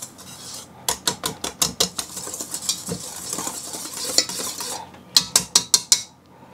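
Electric mixer with a whisk attachment working through cake batter for a chocolate cream doughnut cake, heard as close, bursty rattling whirs in short pulses with brief pauses between them, loud and alone without talk.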